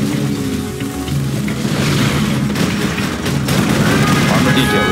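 Dense, continuous gunfire and explosions from a Crusader tank battle in the strategy game Command & Conquer Generals Zero Hour, loud and unbroken, with unit voice lines over the din.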